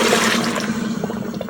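Two cups of water poured into an electric pressure cooker set to saute, a steady close splashing stream that tapers off over a second and a half.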